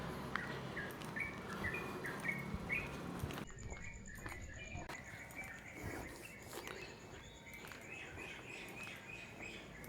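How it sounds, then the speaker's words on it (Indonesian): Birds chirping and twittering in trees in a village on an early-morning walk after dawn prayer, with repeated short calls in the first few seconds, then fainter scattered chirps and insect-like buzzing at a distance. "biasanya banyak suara burung yang menyapa kita"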